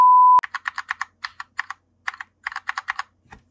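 Rapid bursts of keystrokes on a mechanical computer keyboard, clicky and close, in uneven runs after a short electronic beep, with no talk.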